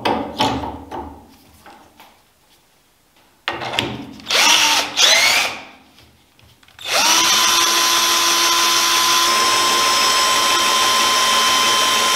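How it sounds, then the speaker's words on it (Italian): A drill bores a hole in an aluminium cylinder: intermittent loud whirring bursts and pauses at first, then a sustained steady high drone runs on to the end, close and loud. "E andiamo a forare col solito attrezzo."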